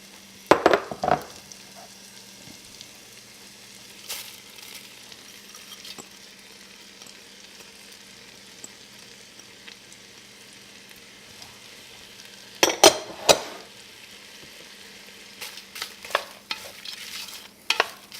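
Two large onions soften in a pot for a Cajun shrimp courtbouillon. A quiet, steady sizzle is broken by a few short bursts of stirring and scraping near the start, middle and end.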